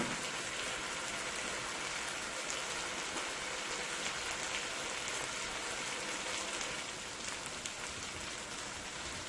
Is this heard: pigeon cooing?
no